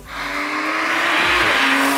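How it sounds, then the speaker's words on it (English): Porsche 911 GT3 naturally aspirated flat-six engine revving hard on the road, a loud sustained rising wail heard from inside the car without any talk. "This is the flat 6, right? Yes, of course. This is the naturally aspirated,"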